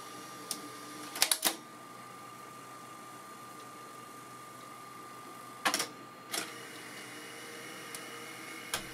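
Sony U-matic video recorder, VO9800/9850 series, running in play mode: a faint steady mechanical hum with a thin tone, punctuated by a few sharp clicks and clunks of the transport engaging.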